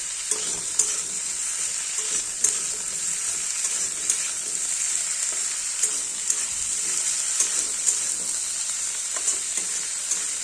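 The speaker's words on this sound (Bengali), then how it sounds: "এবার এই যে ভালো করে ভেজে নেব" Potatoes and squash shoots fry in oil with cumin seeds as the base for a rohu fish curry, a constant close sizzle broken by regular clinks and scrapes of stirring.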